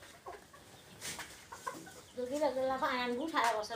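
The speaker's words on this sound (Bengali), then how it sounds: "এখানে কিছু টাইগার মুরগি বাচ্চা আছে এবং সোনালি মুরগি বাচ্চা আছে" Young tiger chickens and golden chickens in a pen cluck and cheep, a few scattered calls at first and then a louder run of rising, wavering calls, close by, with some voices in the background.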